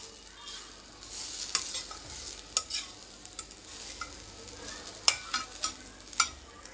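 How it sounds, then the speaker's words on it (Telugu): Fresh coconut dry roasting in a kadai without ghee, a soft, faint hiss under repeated scraping stirs and occasional clinks of the spatula, close up with irregular bursts. "అదే కడాయిలోకి కొబ్బరి కూడా వేసుకుని వేయించుకోవాలి నెయ్యి అవసరం లేదండి ఉడికే డ్రై రోస్ట్"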